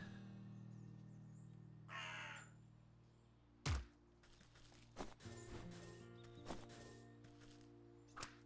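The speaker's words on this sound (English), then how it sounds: "Got some birds." Crows caw in the video game Wytchwood, a few separate harsh calls spaced out over quiet game ambience, with soft footstep-like clops between them.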